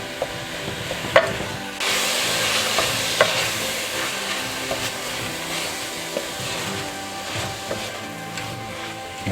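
Steady sizzle of about 2.5 pounds of ground beef browning in a pan, with repeated scraping and stirring strokes cutting through the continuous frying hiss.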